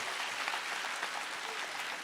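An audience at a motivational speech applauds in a steady, even wash of clapping that lasts throughout.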